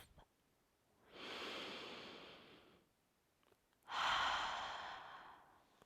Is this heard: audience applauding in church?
no